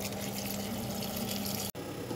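Running tap water streams steadily while fresh garden spinach is washed, a continuous close splashing wash that cuts off abruptly near the end, then resumes briefly.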